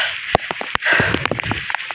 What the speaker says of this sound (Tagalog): Ito pala ang feeling pag inabutan ng ulan sa bundok.